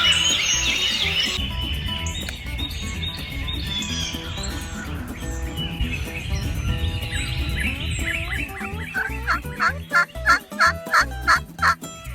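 Wild turkeys gobbling from the roost in Tennessee, a jumble of calls rising to a burst of rapid, loud gobbles near the end, with other birds chirping in the background.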